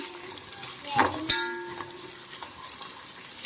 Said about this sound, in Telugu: సో ఒక 3 నిమిషాల పాటు వీటిని బాగా ఫ్రై చేసుకోవాలండి.